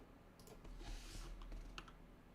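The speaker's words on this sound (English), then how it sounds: "I don't know if you can hear the typing" Quiet clicking keystrokes on a computer keyboard, soft and somewhat distant, in irregular bursts over a low room hum and faint broadband hiss.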